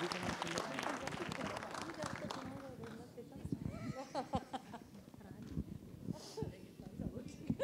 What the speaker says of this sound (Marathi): एकदा जोरदार टाळ्या त्यांच्यासाठी.